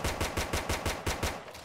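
Rapid automatic gunfire in the destruction game Teardown, a steady run of about nine evenly spaced, loud, close shots with no pause between them.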